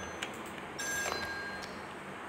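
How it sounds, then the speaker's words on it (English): A phone rings on an offshore oil rig in Still Wakes the Deep, a faint electronic ringing burst over low steady room hum, with no voices. "Hold on, this is phone."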